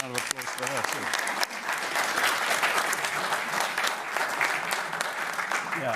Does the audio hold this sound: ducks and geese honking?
no